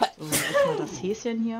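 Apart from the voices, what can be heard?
sneeze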